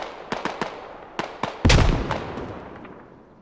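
Mortar fire in the military shooter game Squad on the Logar Valley map: several sharp distant thumps in an irregular sequence, then one loud, heavy impact with a long rumbling decay.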